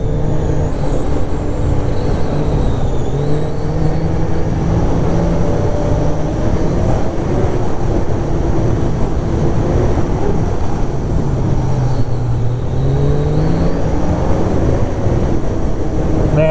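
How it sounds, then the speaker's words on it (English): A 1200 motorcycle engine runs smoothly while riding through Vermont, a steady droning hum under heavy wind rush that holds constant with only slight shifts in pitch. "Man, this engine is just so buttery smooth."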